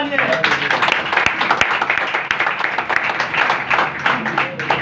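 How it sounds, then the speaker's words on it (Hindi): A church congregation breaks into loud, sustained clapping and cheering, a dense wash of applause with a few sharp claps standing out and voices mixed in throughout. "यीशु के नाम में एक बार जोरदार तालियां।"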